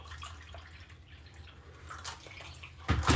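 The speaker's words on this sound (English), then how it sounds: "So I'm going to add more cups of water." Water being poured into puff puff batter, a soft continuous trickling and splashing close by that grows louder and heavier toward the end.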